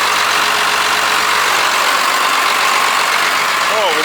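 A JCB Fastrac tractor's old Cummins diesel engine idles with a steady, even mechanical drone, loud and close throughout.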